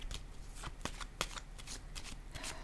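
Tarot cards are handled and laid down during a reading, producing soft, close shuffling and flicking sounds in quick irregular bursts, quiet overall, with no talking.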